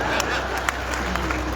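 Applause from an audience at a Hindi kavi sammelan poetry gathering on a Ramlila ground, dense steady clapping with a few sharper claps standing out, close and fairly loud.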